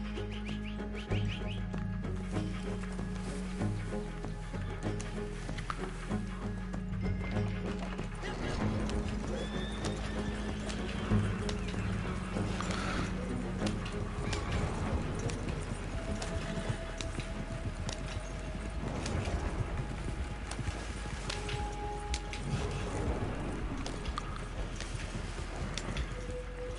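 Horse in the Red Dead Redemption video game, with a loud whinny and steady clip-clop of hooves running continuously under game music and ambient birdsong throughout.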